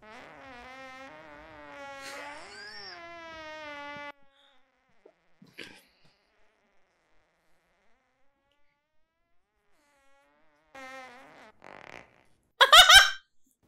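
A short, loud burst of buzzy, sputtering noise near the end, after a stretch of talk and a long quiet pause; it sounds like a fart.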